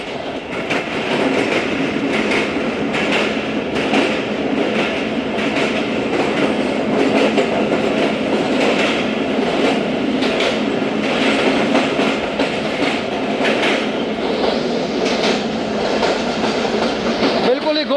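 The Thal Express, a passenger train, rolls steadily along mountain rails with a continuous loud rumble and rhythmic clickety-clack from the wagons, heard close from on board throughout.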